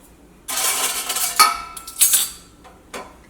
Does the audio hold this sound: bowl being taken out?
yes